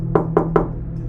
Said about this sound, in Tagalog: Tapos may kumatok